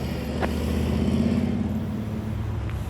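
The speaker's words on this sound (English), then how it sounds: "There went my bike." A Harley-Davidson motorcycle rides off, its low rumbling engine note holding steady and then slowly fading as it pulls away.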